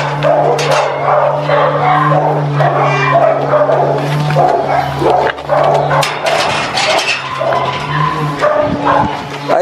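A pitbull barks and yips repeatedly close by at a home, sharp bursts over a steady low hum, with people talking at times.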